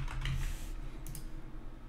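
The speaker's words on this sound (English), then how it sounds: "Let's actually start typing like this." Typing on a computer keyboard while building a website wireframe, a quick run of light clicking keystrokes at close range over a steady low background hum, with no voices.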